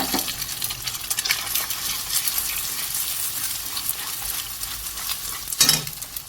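Eggs sizzle in a pan with browned soybean chunks, giving a crackling, bright frying hiss throughout, close and busy, with a sharp clatter near the end and no speech.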